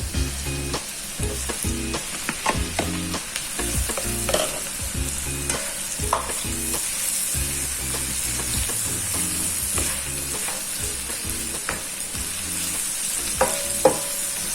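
Mushrooms fry with onion and garlic in a pan, a steady close sizzle punctuated by frequent clicks and scrapes of a utensil stirring, lasting throughout without voices.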